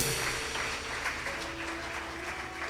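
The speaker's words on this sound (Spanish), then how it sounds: "Si es para el Señor, aplauda bien" Church congregation applauding, a dense, continuous wash of many hands heard at moderate distance, fairly even in level throughout the short stretch.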